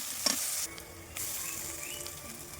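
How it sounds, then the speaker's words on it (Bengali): Onion fries in a pan with a continuous close sizzle and crackle, broken by a few brief stirring scrapes, with no talking. "তো দেখো এবার কিন্তু পেঁয়াজটা ভাজা হয়ে গেছে"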